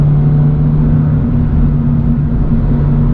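A car accelerates hard under a loud, close, continuous engine drone. Its pitch steps down partway through as it shifts from first to second gear.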